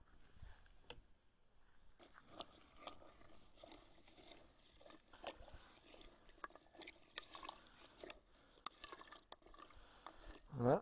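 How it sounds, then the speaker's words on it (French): Apples are stirred in water with a wooden spoon in a bowl for homemade apple cider vinegar, giving faint, soft sloshing and knocking that keeps going throughout, with a louder splash at the very end. "Donc je vais remuer tout ça."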